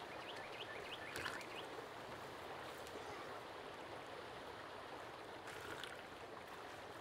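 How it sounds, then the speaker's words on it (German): Fast-flowing river water in the survival game Sons of the Forest, a constant rushing wash that stays even and fairly close throughout, with a faint bird chirp or two above it. "Das Wasser ist wahrscheinlich zu schnell fließend."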